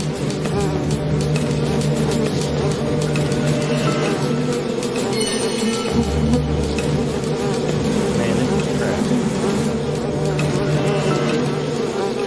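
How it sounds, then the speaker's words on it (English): A dense swarm of bees covering a person during a televised stunt challenge, buzzing loudly and continuously up close, with a steady droning hum that never lets up. "Okay, all the bees are on him."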